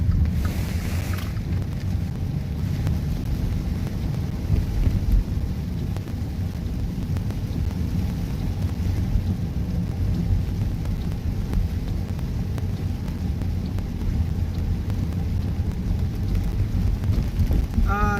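Steady rain and road noise inside a car driving through Tropical Depression Fred, a dense, continuous low rumble and hiss that holds level throughout with no speech.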